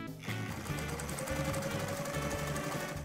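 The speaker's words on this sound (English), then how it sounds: "Sewing machine, get to work." Cartoon-style sewing machine clatter, a rapid rhythmic mechanical chatter that starts suddenly and keeps running steadily, moderately quiet with no talking.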